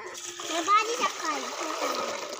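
Children splash about in water while bathing in a filled tub or basin, a busy steady wash of splashes and ripples with young voices talking and calling over it throughout.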